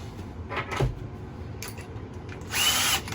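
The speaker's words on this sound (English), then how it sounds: "So I'm going to use my 5/16 bit" Power drill with a 5/16 bit boring into a hollow RV wall: short whirring bursts early on, then a louder sustained drilling burst near the end, heard close.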